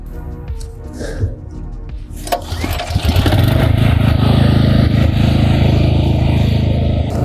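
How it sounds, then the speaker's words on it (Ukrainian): An AL-KO petrol generator runs quietly while a louder garden scarifier dethatcher starts up and drones steadily over a lawn plot, a loud continuous engine roar after an initial quieter stretch with faint background sounds. "Ну, от Ви можете почути, як працює генератор, доволі таки тихо, гучніше працює скарифікатор."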